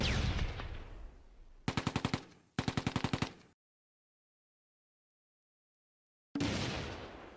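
A 17-pounder anti-tank gun fires on a Mark IV tank: two loud, close bursts of rapid repeated shots in quick succession, broken by a full silence before another heavy report with a rumbling tail.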